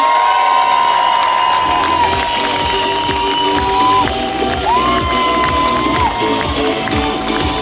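A crowd cheers and whoops for Dean Harrison at the 2024 TT sidecar race winners' presentation, a loud, sustained outdoor roar with shouts and some applause that holds steady for several seconds.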